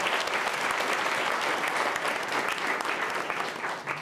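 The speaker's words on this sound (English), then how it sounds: "So let's give them a nice round of applause." A school audience at a spelling bee gives a sustained round of applause for the teachers, dense, even clapping filling the room with no talk over it.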